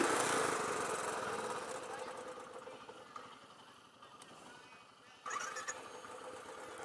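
Royal Enfield Classic 500 motorcycle engine cranking with the kickstand down: a close, loud churning whir that slowly fades over several seconds, then surges again sharply near the end.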